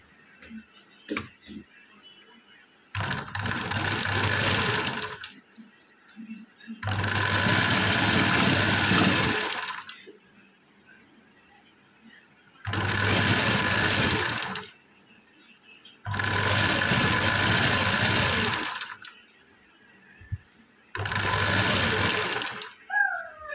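A sewing machine stitches the back neck of a blouse in five loud, close runs of rapid whirring, separated by quiet pauses with faint handling sounds.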